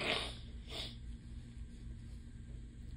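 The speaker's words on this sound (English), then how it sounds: "sorry, little tiny nose blow there" A quick, small nose blow from someone stuffed up with allergies: two short, breathy bursts at the start, then quiet room noise, close to the microphone and with no talking.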